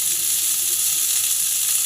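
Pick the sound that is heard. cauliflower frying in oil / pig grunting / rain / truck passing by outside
cauliflower frying in oil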